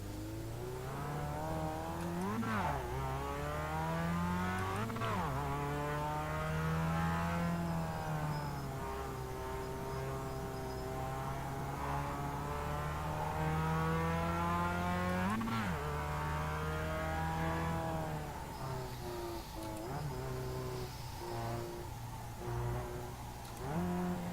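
A Mazda Miata race car on the track at Okayama, its engine droning steadily and rising and falling in pitch through repeated shifts and revs, heard continuously up close for over twenty seconds.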